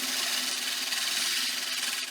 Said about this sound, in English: I'm using 80 grit diamond disc right here.